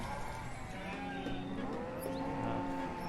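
Cattle moo repeatedly in the medieval town-building game Banished, with long drawn lowing calls over steady game ambience and no speech.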